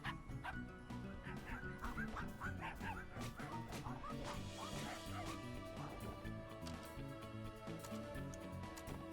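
Several dogs bark in a video game over dense, steady game music, with yips and short whimpering calls scattered through the busier stretch.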